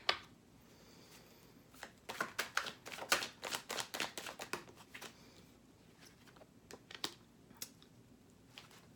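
Tarot cards are shuffled and drawn in a quiet room, giving soft, crisp riffling and flicking bursts that cluster in the middle and then thin out to a few sharp single snaps.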